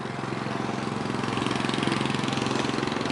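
A BMC Mini vintage tractor engine idling at a show among other old tractors, a steady, rapid, even chug with a faint rhythmic pulse, close and continuous with no voices.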